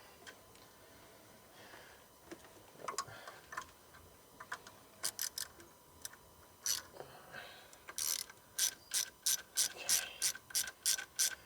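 Ratchet wrench cranking out long car bolts, heard as bursts of quick metallic clicks that start sparse and build into a steady rapid run of ratcheting near the end, close and fairly clear.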